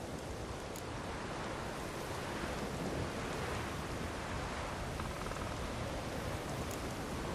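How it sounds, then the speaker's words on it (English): Steady rain from a thunderstorm in the video game Witcher 3: Wild Hunt, a dense, even wash of rainfall with a low rumbling undertone, constant and without pauses or voices. "Storm's died down."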